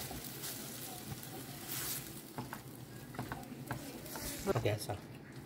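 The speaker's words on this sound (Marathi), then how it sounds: "आनी बरें ताका मिक्स करून घेयात" Smashed crab stuffing is mixed by hand or spoon in a home kitchen, giving soft continuous scraping and stirring rustles at low volume, with voices talking intermittently over it.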